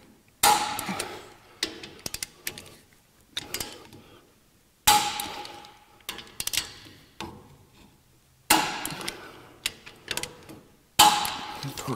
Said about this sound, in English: let me grab a torque wrench, torque these in